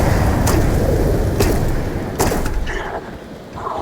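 Novalight particle beam weapon firing in the Starfield video game: three sharp, evenly spaced energy shots roughly a second apart over a loud, steady background rumble, the last followed by a fading tail.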